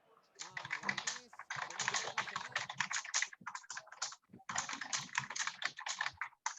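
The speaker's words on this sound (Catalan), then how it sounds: "No sé qui té el micro encès, si podeu tancar el micro, que se sent com teclejar" Rapid typing on a computer keyboard clatters through an open microphone in dense bursts of key clicks, close and steady with short pauses, and faint voice fragments underneath.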